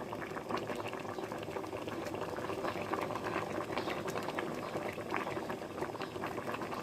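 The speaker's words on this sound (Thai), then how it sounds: "เดือดฟุดๆแล้วนะฮะ แล้วหน่อไม้ก็จะเริ่มสุกแล้ว" Bamboo shoot curry boiling hard in a pot, a dense continuous bubbling and popping that stays even and steady throughout, close by and moderately loud with no talking.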